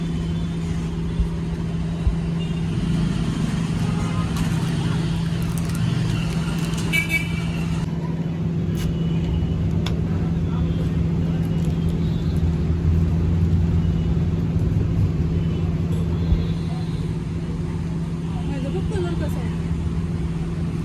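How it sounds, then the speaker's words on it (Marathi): A car engine idles with a steady, loud low hum that carries through the whole stretch, with a faint toot and background traffic noise, no speech. "जरा मशिनीचा आवाज चांगला यायला लागलाय"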